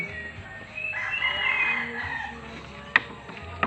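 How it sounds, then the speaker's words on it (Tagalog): A rooster crows once, long and fairly close, at a home with many chickens around, followed by quieter background and a couple of sharp knocks near the end. "Tapos marami pang manukan doon."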